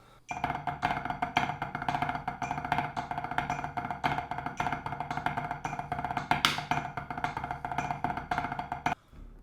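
A snare drum plays a steady stream of quick, crisp flams, close and even, continuing for several seconds before stopping.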